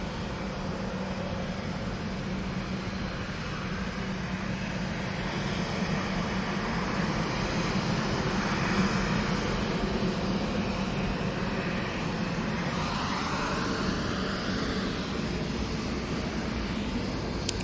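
EasyJet jet airliner passing at Manchester Airport, a sustained broad engine roar that swells gradually toward the middle and stays fairly distant, with no voices over it.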